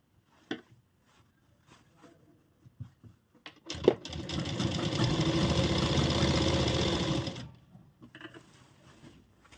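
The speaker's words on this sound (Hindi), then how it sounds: "चारों तरफ गोलाई में सिलाई हमें लगानी है" A sewing machine stitching in a circle around fabric for a frock: a few faint clicks and handling taps, then a steady whirring run of about four seconds that stops abruptly, followed by quiet clicks.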